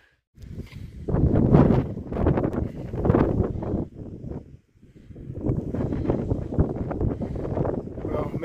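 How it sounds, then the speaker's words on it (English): Strong wind buffeting a microphone on a 4,000-foot summit in the Bigelow Mountains, loud gusting roars that drop briefly midway then return, with faint voices mixed in. "wind is blowing like crazy"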